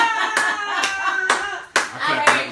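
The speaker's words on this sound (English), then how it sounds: "I clap for that one on myself." A single person claps their hands repeatedly in sharp, close bursts, several quick claps in an irregular rhythm over a speaking voice.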